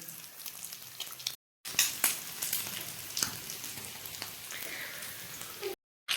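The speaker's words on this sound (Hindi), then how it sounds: "जी तो ऐसे करके हमने इसे फ्राई कर लेना है हल्के से ऑयल में, ज़्यादा भी ऑयल नहीं लगेगा।" Chicken cutlets frying in a little oil, a close crackling sizzle like rain on a surface with scattered pops, continuous apart from two brief cuts to silence.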